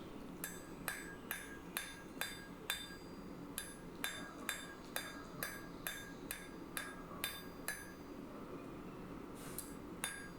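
Steel struck by a blacksmith's hammer while its shape is refined, ringing out in a steady run of sharp metallic blows, about one or two per second with brief pauses, clear and moderately close.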